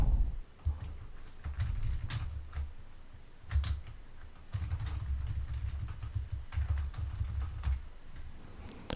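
Computer keyboard keys are pressed for Photoshop shortcuts, a run of irregular clicks and taps, some in quick clusters and others spaced apart, close and fairly quiet against a low background hum, with no voices.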